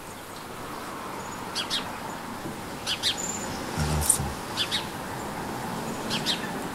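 Sparrows chirp in short, scattered bursts over a steady background hiss, played back from a vinyl record through a Clearaudio cartridge with balanced output; a voice briefly speaks over them.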